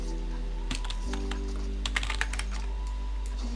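Keys clatter on a computer keyboard in scattered, uneven bursts of clicks, some quick runs and some single taps, heard close over a constant low electrical hum.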